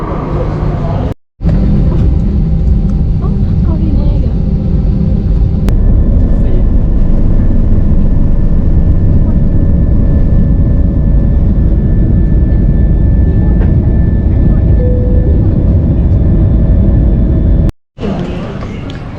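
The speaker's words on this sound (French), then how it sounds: "un avion de la Thai Airways." Thai Airways airliner engines at an airport, a loud, steady roar that holds evenly for the whole stretch with a faint high whine on top, broken only by two brief cuts.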